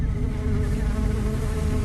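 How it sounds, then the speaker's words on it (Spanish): Flies buzz in a close, loud, continuous drone that stays steady and unbroken throughout, with no voices present. "Las moscas aparecieron de pronto, zumbando sobre la cara y las manos."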